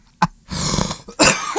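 A person coughs up close in a studio setting, a sharp burst followed by a rougher, longer throaty sound and another loud cough, with no words.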